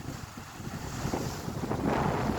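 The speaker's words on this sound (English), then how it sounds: "Yeah, it's pretty windy today." Strong wind sweeps across an island shoreline where a cruise ship is docked, roaring and buffeting the microphone with a steady, full rush. No voices are heard.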